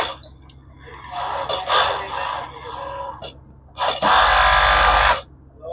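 An overlock sewing machine stitches the cuff of a sleeve in loud close bursts, running in short runs separated by pauses, with a final sustained run near the end and no voices.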